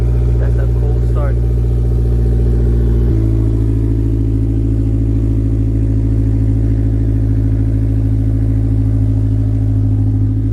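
A Honda S2000 (AP1) fitted with a Buddy Club exhaust starts cold after sitting all winter. It gives a loud, steady droning idle with strong low harmonics, and the pitch drops and settles a few seconds in. A voice speaks briefly near the start.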